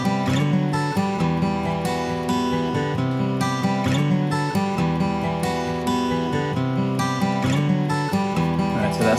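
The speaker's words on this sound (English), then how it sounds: "main sound you're hearing in this is the acoustic guitar" Dense acoustic guitar strumming, bright and full, played steadily without pause and without added effects.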